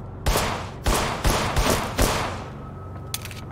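Four heavy gunshot blasts in the video game In Sound Mind fire at irregular intervals, each loud and booming with a short decay, followed by a faint sharp click near the end.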